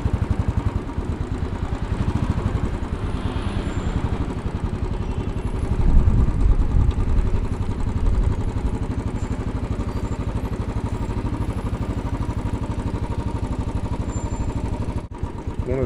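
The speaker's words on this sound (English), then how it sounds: "It's not rumbling quite as hard as I sit here waiting for the light." A motorcycle idles at a traffic light on a midtown Manhattan street, its engine putting out a steady, even low rumble that swells briefly midway, with city traffic noise around it.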